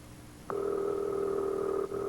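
A steady electronic telephone ring tone starts abruptly and holds for over a second, with a brief break near the end before sounding again.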